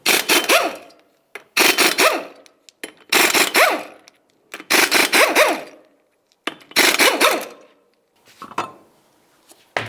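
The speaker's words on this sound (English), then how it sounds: "Remove all 5 of your 19mm lug nuts and the wheel." Five 19mm lug nuts and a wheel coming off a 2010–2013 Ford Transit Connect: loud, close bursts of metallic rasping and ratcheting in about six separate runs with short pauses between them, and no talk.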